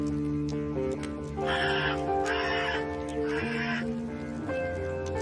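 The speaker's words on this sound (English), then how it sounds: "aside from the sound of birds outside" Birds outside in a video game give three harsh, crow-like cawing bursts over a steady tonal background hum, moderately loud and evenly spaced.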